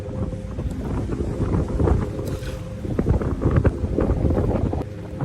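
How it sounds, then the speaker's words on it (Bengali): Strong wind buffets the microphone on an open river during net fishing, with gusty roaring and rumble, waves slapping, and a faint mechanical hum beneath. "প্রচুর হাওয়া হচ্ছে আর ঢেউও সাথে"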